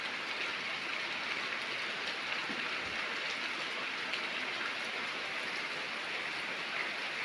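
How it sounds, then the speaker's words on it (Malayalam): Heavy rain with big, forceful drops pours down in a dense, unbroken hiss, steady and close, with no voices. "തുള്ളികളൊക്കെ ഭയങ്കര ശക്തമായിട്ടുള്ള തുള്ളികളാണ് വീഴുന്നത്"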